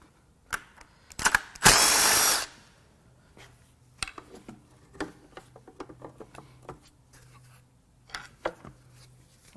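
A power tool whirs for a short, loud burst on a teardown of a blown 2.4L Ecotec engine, followed by scattered clicks and metallic taps at close range.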